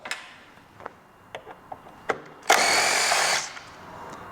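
A power driver with a T40 Torx bit whirs in one loud burst of about a second, removing a muffler fastener on a Piaggio BV350 scooter, with scattered light tool clicks and taps before and after.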